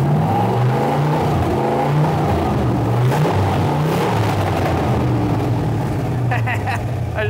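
A widebody Porsche 911 engine idles and rumbles loudly nearby while warming up, the revs rising and falling in a choppy, uneven rhythm.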